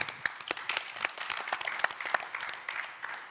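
An audience claps at a tech innovation stage event, a dense burst of many hands with sharp individual claps scattered through a steady wash, moderately loud and sustained for several seconds.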